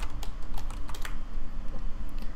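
Fast keystrokes on a computer keyboard entering an SSH login password to a BeagleBone Black board, a steady run of close, crisp clicks over a low background hum.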